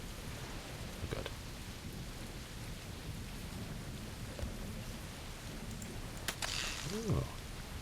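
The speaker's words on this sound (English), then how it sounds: "I wish we heard rain more around where I live." Rain and thunder from the Sam and Max Season 2 adventure game, a steady soft hiss of rainfall with a low rumble, faint and continuous throughout, with a brief crackle near the end.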